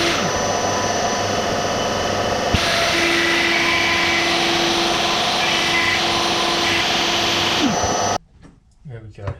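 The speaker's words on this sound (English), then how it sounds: "I'm just going to hook up a vacuum cleaner so don't create any more sawdust than we absolutely have to." A vacuum cleaner hooked up to collect sawdust while building a bass guitar roars steadily and loudly with a constant whine, its pitch shifting slightly partway through, then cuts off abruptly near the end, leaving a quieter room and a brief voice.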